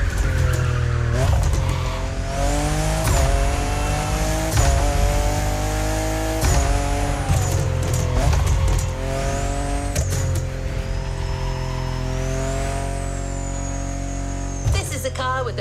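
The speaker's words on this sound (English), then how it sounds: "the car you're going to be driving is not a typical drift affair" A Chevrolet, an American car with finely tuned steering, drifts in The Crew Motorfest racing game, its engine droning steadily with rising and falling revs and squealing tyres throughout, loud and close.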